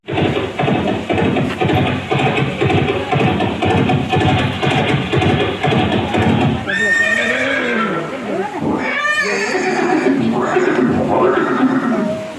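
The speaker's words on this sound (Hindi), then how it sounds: "ये दृश्य महाराणा प्रताप और सुविख्यात स्वामी भक्त घोड़े चेतक के अंतिम मिलन का है।" Horse neighing in a dramatized scene of Maharana Pratap and his horse Chetak, with several loud, shaky whinnies in the latter half following earlier dramatic music and voices, close and prominent.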